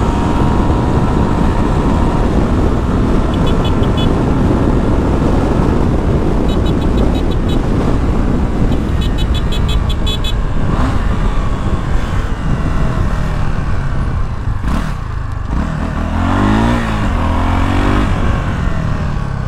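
A loud Honda Sahara 300 motorcycle engine roars and revs continuously while riding, pitch shifting up and down, with rough wind and road noise close by.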